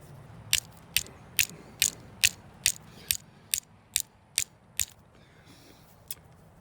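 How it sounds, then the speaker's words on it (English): A rock scrapes against a fire steel in about a dozen sharp, evenly spaced strikes, close and fairly quiet, with one last strike after a short pause. "Before I go any further with this rock, I'm going to see if it'll throw a spark against my fire steel."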